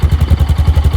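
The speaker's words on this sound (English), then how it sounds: "what does she sound like?" Yamaha XT660R motorcycle idling on its stock exhaust, a loud, close, steady low thump pulsing about ten times a second with no other sounds.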